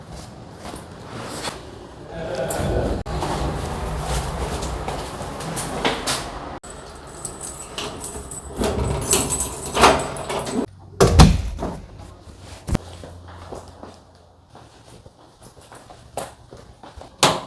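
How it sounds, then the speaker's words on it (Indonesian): A door opens with a clatter and thump in a busy indoor space, with scattered footsteps and handling noise around it and no talk heard. "Nah, ini udah ada yang bukain pintu ya."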